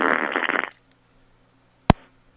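On a radio call-in swap show, a loud, rough, buzzing fart noise rattles for under a second, followed by silence and a single brief sharp pop.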